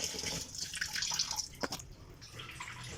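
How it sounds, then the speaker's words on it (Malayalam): Cleaned crabs being rinsed under running water in a kitchen, a steady splashing rush with small drips and knocks throughout, close and moderately loud, no speech. "നമുക്കിനി ഇതിനെ ഒന്ന് കഴുകി റെഡിയാക്കി എടുക്കാം."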